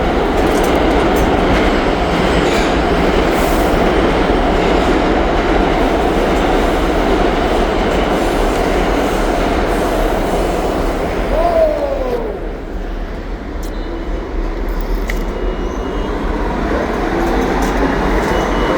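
A New York subway train rumbles loud and close with a continuous roar and wheel clatter, and a brief squeal as it shifts pace partway through.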